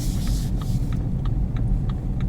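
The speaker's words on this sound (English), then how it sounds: "this time I'm keeping the clutch down and the car doesn't slow down as much" With the clutch held down, a car coasts around a corner, its engine a low, soft rumble and throb under faint road noise, with no voices.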